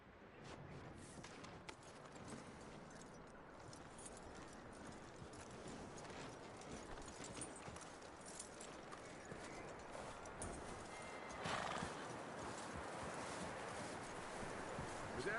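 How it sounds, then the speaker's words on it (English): Horse hooves clip-clop steadily in Red Dead Redemption 2, a continuous trotting patter at moderate loudness with faint background game ambience and no clear neigh. "That looks like a decent horse."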